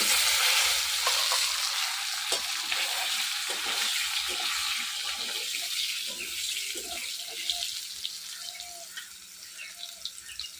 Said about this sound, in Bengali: এই মাছ ভাজা তেলে আলু ভেজে নেবো